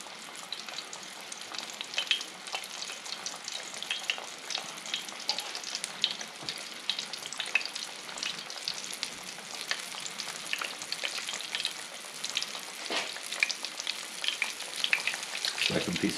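Fish pieces frying in a pan over medium heat, a dense, steady crackling sizzle with scattered pops running throughout, close and unbroken.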